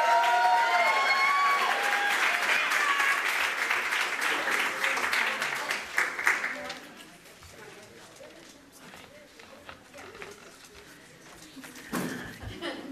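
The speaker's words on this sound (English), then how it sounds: "Let's hear a nice round of applause for Deidre." A political rally audience claps for a speaker from a gun-safety group in full, dense applause that fades after about six seconds into scattered claps. A voice then talks over the quieter room, with a brief swell of noise near the end.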